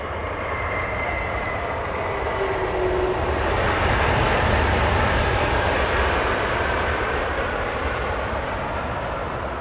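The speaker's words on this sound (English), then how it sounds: "United Airlines PW4000 engines coming in after a 5-hour flight from Honolulu." A United Airlines jet with PW4000 engines comes in to land at Los Angeles International Airport after a flight from Honolulu, its loud, steady engine roar swelling slightly mid-pass and holding for nearly ten seconds, with faint whining tones and no talking.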